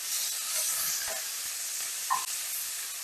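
Sausage frying in a small pan gives a steady, close sizzle with a soft hiss throughout and a brief sharper pop near the end.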